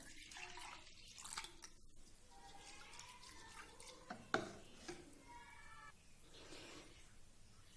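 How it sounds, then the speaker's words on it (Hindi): Water is poured into a bowl of gram flour batter for kadhi pakora, making faint, soft trickling and dripping splashes close by in a quiet kitchen. "और साथ कुछ थोड़ा सा पानी ऐड कर देंगे।"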